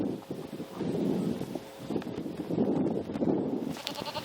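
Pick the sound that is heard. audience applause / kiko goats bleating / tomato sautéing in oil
kiko goats bleating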